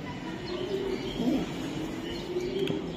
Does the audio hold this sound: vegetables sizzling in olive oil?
no